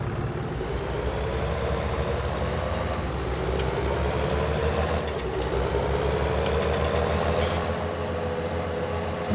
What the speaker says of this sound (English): So you can hear the gears kicking in.